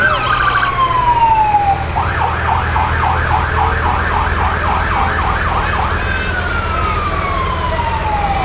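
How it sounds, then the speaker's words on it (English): Morgan County Fire Department fire engine siren at a festival, a long descending wail followed by rapid yelping warbles, then another falling wail, loud and fairly close over steady crowd and engine noise. "Morgan County Fire Department, they have some good-looking equipment. You can hear them coming if nothing else."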